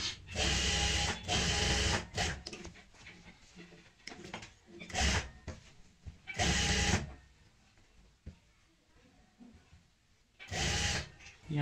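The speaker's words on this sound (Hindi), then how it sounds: "ऐसे सिलाई लगाते जाएंगे और यहाँ पे ऐसे पक्का करेंगे" An electric sewing machine stitching a chair cushion runs in several loud bursts of a second or so each, separated by quieter pauses filled with faint handling and rustling of fabric.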